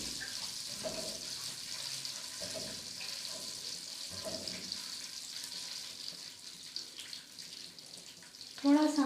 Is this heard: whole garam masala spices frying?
yes